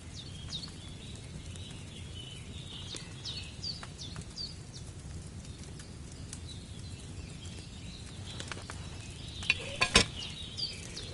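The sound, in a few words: potion cauldron bubbling and boiling over flame, Kingdom Come 2 video game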